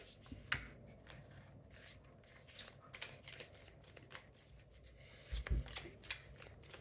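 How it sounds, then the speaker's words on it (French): Tarot cards are shuffled and drawn by hand, a close, soft series of rapid riffling and flicking bursts with brief pauses and a slightly louder slap near the end. "Je ne vais pas prendre trop de cartes parce que je vais faire un tirage rapide."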